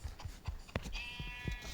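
Sheep bleating in a video game, short wavering calls between soft rhythmic thumps and game effects, including a thin high tone, all fairly quiet.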